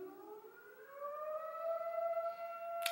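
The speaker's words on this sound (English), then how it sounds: "It sounds like there's an atomic bomb warning going off right now." Civil defense siren wailing outdoors, its steady rising tones sustained and clearly audible at a moderate distance, with a brief sharp noise near the end.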